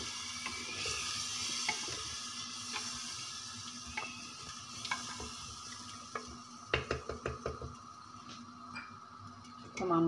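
Spices and white chillies frying in a pot for chicken makhni handi, a steady soft sizzle throughout with a run of sharp spoon clinks and scrapes against the pot near the end.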